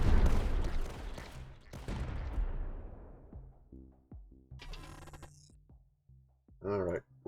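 Reaper cannons fire in the video game Tower Dominion: heavy booming blasts crowd the opening seconds and then thin out into scattered shots, clicks and tonal interface chimes, with a sharp whooshing effect near the end.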